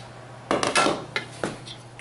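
Big spoons adding dry bran muffin ingredients to a mixing bowl: a handful of close clinks and scrapes of metal on the bowl, spaced irregularly over a low steady hum, with no talk.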